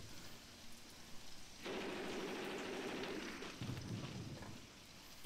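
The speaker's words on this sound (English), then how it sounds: "And it's also raining, guys." Heavy rain falls in the war game Graviteam Tactics Mius Front, a quiet patter that suddenly becomes a dense, steady downpour before easing slightly, with no talk.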